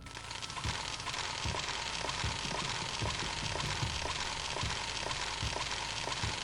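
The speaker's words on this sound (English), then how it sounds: "think that's the sound of me cooking in the lava." A character burns in lava in the video game Meridian 59: a steady, dense hiss and crackle with faint regular clicking, continuous at even loudness throughout.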